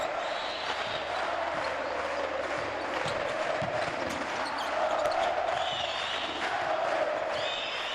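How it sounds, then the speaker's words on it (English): Basketball crowd in Santiago during a Liga de las Américas game between Quimsa and Toros del Norte, roaring and cheering continuously in a large arena, with whoops and whistles rising at moments and a voice talking over it. "Crowd enjoying themselves here in Santiago"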